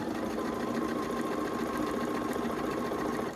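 A sewing machine fitted with a quarter-inch foot stitches fabric using white thread, a steady close whirring hum that runs without a break.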